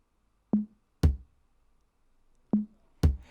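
Four electronic tom hits arrive in two pairs, each a higher tom followed by a deeper, boomier one, with silence between the pairs.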